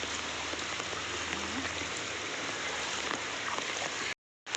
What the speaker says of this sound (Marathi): आज खूप पाऊस पडले काल रात्रीपासून पाऊस आहे